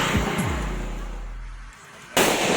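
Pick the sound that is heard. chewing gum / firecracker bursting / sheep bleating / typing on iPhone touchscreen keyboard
firecracker bursting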